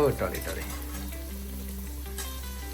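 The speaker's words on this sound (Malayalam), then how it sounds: "അമ്മ സബോള ഇടുന്നു" Onion drops into hot oil that already holds ginger and garlic for an Onam kovakka fish curry, and a steady close sizzle follows with light stirring under it.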